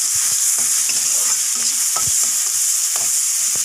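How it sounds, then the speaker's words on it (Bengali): Pointed gourd peels, green chili and garlic fry in hot oil with a steady, close sizzle, while a spoon scrapes and stirs through the pan in irregular knocks. "এখন এগুলোকে আমি তেলে ভেজে নেব।"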